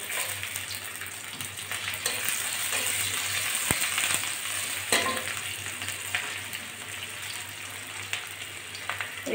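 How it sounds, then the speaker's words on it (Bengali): Whole cumin seeds and chopped garlic frying in hot oil for a potato fry, a soft, steady sizzle with faint crackles and a couple of sharp utensil taps, no voices. "গোটা সাদা জিরে ফোড়ন দিচ্ছি"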